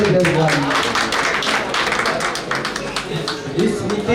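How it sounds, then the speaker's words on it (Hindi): An audience at a Ramleela festival ground in Rohini, Delhi gives loud, continuous applause, dense clapping from a large crowd that holds steadily for several seconds. "भाई मैं जोरदार ताली बजाई जाए।"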